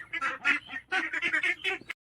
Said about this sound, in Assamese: এইফালে হাঁহৰ মাত, এইফালে কুকুৰা মাত